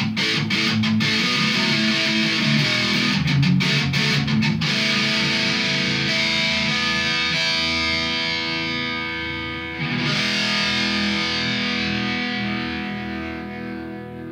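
A cheap electric guitar around $100 played through heavy distortion, sustained fuzzy chords ringing out loud, with a few strummed attacks early on before a long decaying hold and one more struck chord near the end.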